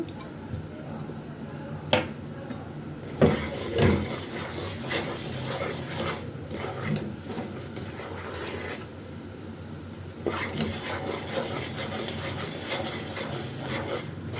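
Rice barfi mixture with cardamom powder being stirred in a pan, with repeated close scraping and clacking of the spoon against the metal over a low sizzle, pausing briefly before the stirring resumes.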